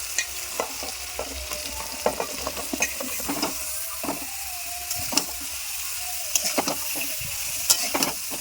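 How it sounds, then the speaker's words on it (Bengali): Mixed vegetables stir-fry with spices in hot oil for a Bengali mixed-greens vegetarian curry, a steady close sizzle broken by repeated sharp scrapes and clacks of a spatula against the pan, with no talk. "সবজিগুলো সব আমি একসঙ্গে ভালো করে কষে নেব মশলার সঙ্গে"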